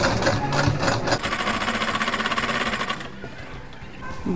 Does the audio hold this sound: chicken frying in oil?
no